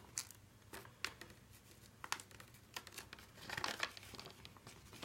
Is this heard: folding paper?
yes